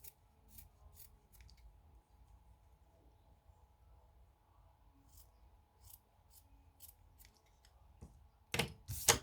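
Scissors snip through a line of material on a dollhouse craft project, making soft scattered clicks and cuts over a quiet room hum, with a louder handling rustle near the end.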